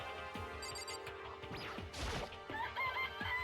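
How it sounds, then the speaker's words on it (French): Chickens cluck and a rooster crows in the video game Danganronpa, mixed with game music and a sharp crash partway through, with no voices. "Cet endroit a même des poulets, tiens."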